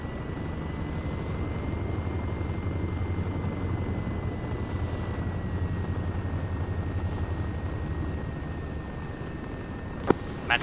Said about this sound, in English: Chinook is landing to the northwest.